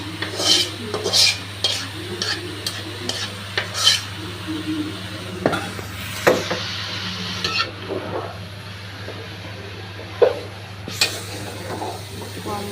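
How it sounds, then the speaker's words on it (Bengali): Fried raw jackfruit is tipped into a pan and stirred with a spatula, giving repeated close scrapes and clinks against the metal over a soft sizzle and a low steady hum. "ভেজে রাখা এঁচড় গোলাও দিয়ে দিতেছি"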